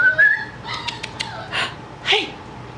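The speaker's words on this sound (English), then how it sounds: "He hears the other puppies over here." An 11-week-old puppy and nearby puppies whimpering and yipping, a few thin high whines and short yelps over a quiet indoor background.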